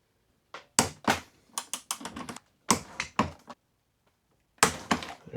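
A torque wrench tightens the motor bolts on an Inmotion V9 electric unicycle, giving a series of sharp, close ratcheting clicks in short bursts separated by pauses.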